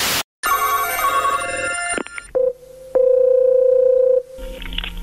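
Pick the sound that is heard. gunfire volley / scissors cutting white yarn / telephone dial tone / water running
telephone dial tone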